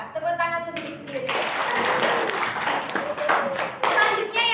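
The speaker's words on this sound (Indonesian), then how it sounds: "tepuk tangan untuk diri sendiri." Indonesian classroom audience clapping for themselves, a burst of close, dense hand claps that swells after a spoken lead-in and carries on steadily with a voice breaking in near the end.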